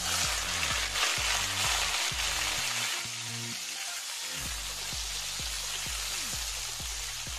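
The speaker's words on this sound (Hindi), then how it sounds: "इसी तेल में 1 चम्मच तेल और डालेंगे और सीम को फ्राई कर लेंगे।" Sem beans hitting hot oil in a pan give a steady, close hiss of frying with scattered pops and crackles, easing slightly after a few seconds and continuing alone.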